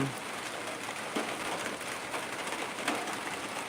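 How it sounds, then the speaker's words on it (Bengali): Soft, steady patter of light rain with a diffuse hiss throughout, occasional faint drops standing out; no voices. "এরকম গুড়ি গুড়ি বৃষ্টি হচ্ছে সারাদিন বৃষ্টি চলবে মনে হয়"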